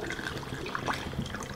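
Brewing wort is poured into a glass Erlenmeyer flask for a yeast starter, a close trickling and splashing of liquid with small gurgles.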